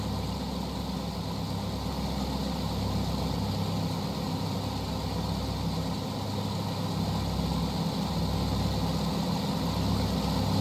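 Boat engines idle in Arma Reforger with a steady, unbroken low rumble and hum that holds at an even level from start to finish, with no voices over it.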